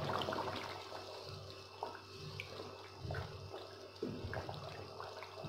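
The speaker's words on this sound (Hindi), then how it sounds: "तकरीबन 1 गिलास के करीब मैं इसमें पानी डालूंगी" About a glass of water is poured into a pressure cooker holding raw beef, giving a steady splashing, gurgling wash with a few small clinks, close and fairly quiet.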